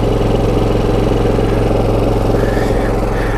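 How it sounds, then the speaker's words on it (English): A quiet inverter generator idles at a campsite, a steady, even mechanical hum with a low engine drone running unbroken throughout at moderate level, no voices. "It's one of them, what they call inverter generators."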